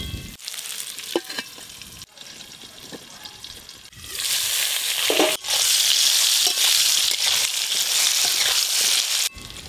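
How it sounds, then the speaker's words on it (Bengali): Pieces of taro (kochu) seasoned with nigella seeds, turmeric and salt are pressed down and fried in hot oil. A soft crackle with a few clinks of stirring grows into a loud, dense, steady sizzle about halfway through. "কচুগুলো চাপা দিয়ে খুব ভালো করে ভেজে নেব।"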